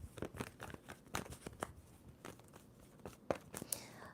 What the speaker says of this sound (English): 2 more shuffles for Leo